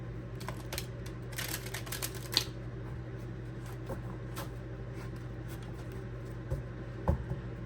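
A tarot deck is shuffled by hand in short bursts of crisp riffling and card flicks, close and fairly quiet, with soft taps and pauses between.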